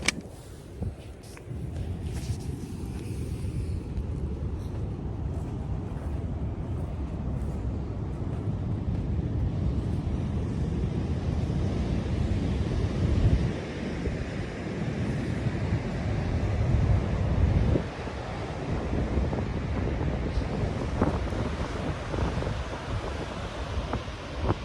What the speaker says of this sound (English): I'm going to go ahead and show you guys the ocean as I promised